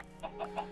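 Three quick, soft clucks from a chicken in the video game Minecraft, evenly spaced in under a second, faint and alone.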